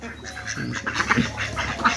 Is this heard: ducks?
yes